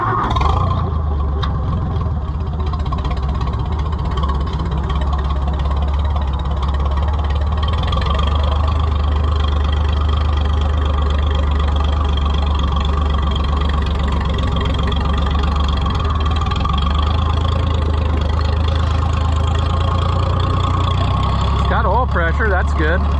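White 2-70 truck engine idling while low on fuel, a steady loud low rumble with a knocking, uneven pulse that runs without a break, with people talking over it.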